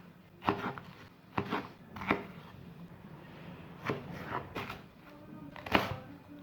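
A knife chops leek on a cutting board for a simple couscous, six distinct close thunks spaced irregularly with quiet gaps between them and no talking.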